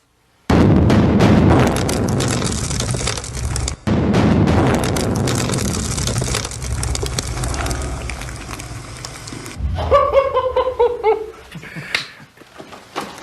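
A mining blast set off inside a gold mine gives a loud sustained roar and rumble that runs for several seconds and then breaks into scattered debris clatter and crackling as it dies away.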